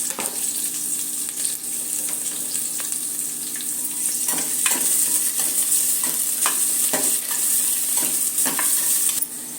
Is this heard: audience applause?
no